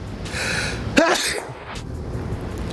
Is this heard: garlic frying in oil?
no